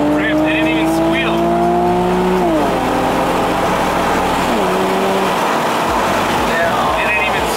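A Rocket Bunny car launches hard at about 2K RPM on the street, its engine roaring loud and close as the revs climb through gear changes, the pitch stepping down at each shift and rising again.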